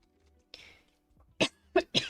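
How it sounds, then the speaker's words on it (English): Coughing turned away from the microphone: one muffled cough, then three quick, sharp coughs in a row. "I tried to cough away from the microphone"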